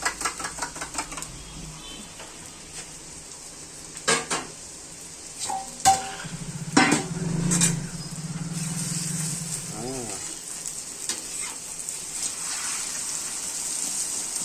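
An egg omelette made without onion fries in a pan. Metal utensils clank and scrape against the pan, a spatula flips the egg, and a soft sizzle runs underneath, while a person talks nearby.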